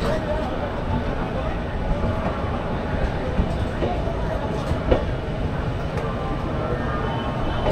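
Ispat Express pulling out of platform 22 at Howrah station, a steady loud rumble of the moving train with faint rail clatter and passenger chatter underneath throughout.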